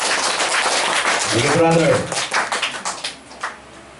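A church congregation claps for the Lord, a dense patter of many hands that thins toward the end, mixed with a voice speaking over it.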